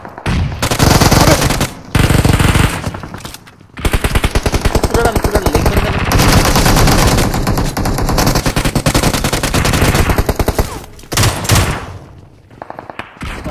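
Sustained automatic gunfire from a god gun in an online shooter game, loud rapid bursts filling most of the stretch with brief pauses between volleys.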